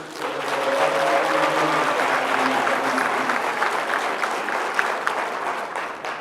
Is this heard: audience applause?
yes